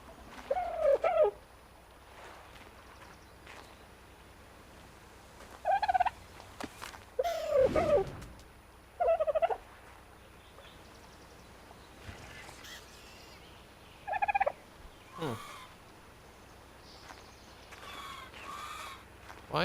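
Dodo birds in a video game give short, separate honking calls every few seconds over a faint steady background, with occasional soft thumps between them.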